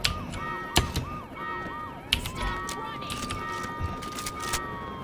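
A police car siren in the video game Saints Row 2 wails in repeated rising and falling sweeps, then settles into a long steady tone, with sharp game impacts and voices talking over it.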